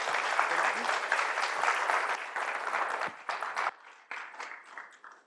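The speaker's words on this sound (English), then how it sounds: "Give these ladies a big round of applause." Audience applause at a women's summit for International Women's Day, a dense sustained clapping from a large crowd that thins and breaks into scattered claps toward the end.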